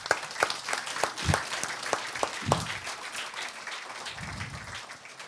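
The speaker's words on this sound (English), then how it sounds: "A huge round of applause, guys, for them." An audience at an indoor panel event gives a round of applause, a steady crowd of clapping with a few sharper nearby claps standing out, fading slightly toward the end.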